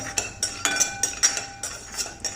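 Peanuts added to hot oil in a pan for poha chivda produce a string of sharp, light clinks and rattles at an uneven rhythm, close by and alone.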